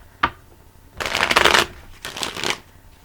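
Tarot cards being shuffled: a single sharp snap, then two dense bursts of riffling, fairly close and with no talking.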